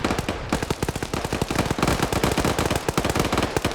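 Dense video game combat: rapid, loud gunfire crackles almost without pause, mixed with grenade blasts in a chaotic, close barrage, no voices.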